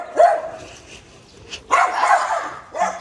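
A dog barks close by in three short bursts, one sharp yip, a longer bark run in the middle, then a final bark, with no talking.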